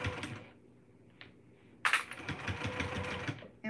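A sewing machine stitches fabric near a strap on a stair step basket in short bursts, a quick rattling run, then a pause and a louder rapid stitching stretch.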